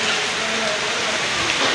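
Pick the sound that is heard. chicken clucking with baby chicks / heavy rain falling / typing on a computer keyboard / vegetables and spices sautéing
heavy rain falling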